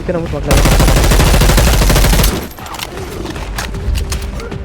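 Gunfire from the video game Dead Island 2: a loud sustained burst of rapid automatic shots for about two seconds, then quieter scattered shots and game sounds continue.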